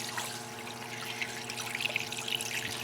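Surface grinder coolant pump, with no nozzle fitted, pouring a heavy stream of coolant into a catch tray, a steady splashing trickle over a low motor hum, close and faint.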